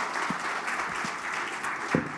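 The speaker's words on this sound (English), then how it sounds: "let's give a big round of applause for our experts from the Visegrad countries" Applause for a panel of esports experts from the Visegrad countries at a sports conference, steady dense clapping from a large audience throughout with a few louder claps standing out.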